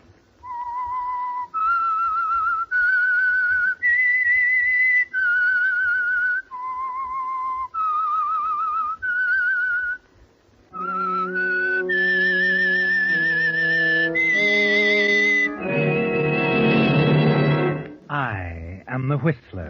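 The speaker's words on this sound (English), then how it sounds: "That whistle is your signal" A lone whistled melody rises and falls in a slow, haunting theme for an old-time radio mystery drama, then swells into a full orchestral passage that builds loud and ends on a sustained chord.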